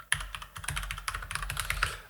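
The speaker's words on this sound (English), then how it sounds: "is one of the nicest brown switch keyboard I've used" Steady, fast typing on a Varmilo Yakumo VA108M full-size mechanical keyboard with Cherry Brown switches, a dense run of close, crisp key clacks with soft bottoming thuds and no talk.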